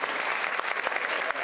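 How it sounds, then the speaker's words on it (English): A school-district audience gives a brief round of applause during a state-of-the-schools address, a short burst of many hands clapping, fairly loud and continuous with a few sharper claps standing out. "that deserves a round of applause"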